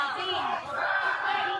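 A crowd of protesters outside the West Java provincial DPRD building shouts and yells together during a night-time dispersal by security forces, a dense, sustained roar of many voices at moderate distance.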